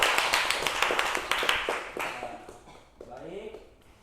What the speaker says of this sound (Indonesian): Ya tepuk tangan semua ya.